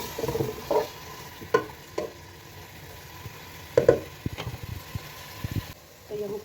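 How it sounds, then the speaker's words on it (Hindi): Onions frying in about a cup of oil for potato pulao, a soft steady sizzle under intermittent stirring knocks and scrapes, fairly quiet and close. "और अब इसके बाद डालेंगे हम प्याज, और अच्छी तरह से हम इसको फ्राई करेंगे।"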